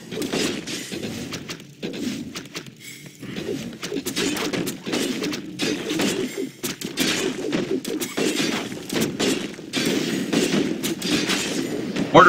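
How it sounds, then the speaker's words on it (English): Mortar teams firing in a Warcraft III match, a dense, continuous barrage of explosive bursts and impacts with crackling battle noise throughout, fairly loud and busy. "Lots of damage from the mortar teams right now."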